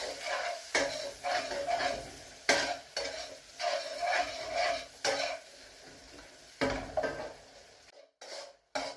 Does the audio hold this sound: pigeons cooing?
no